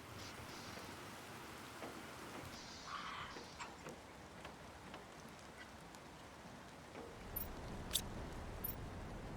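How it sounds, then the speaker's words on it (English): Acid rain falling in the video game The Planet Crafter, a steady soft patter of drops on surfaces throughout, with a few brighter ticks near the end. "Acid rain."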